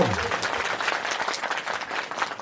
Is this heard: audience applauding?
yes